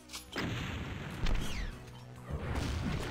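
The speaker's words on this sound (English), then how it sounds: "Listen to this, man, that's horrible. Worst rocket launcher effect ever." Rocket launcher firing in Doom 2 Vanguard, two heavy bursts with a thudding blast and crashing impact, separated by a brief whooshing sweep, fairly close and loud.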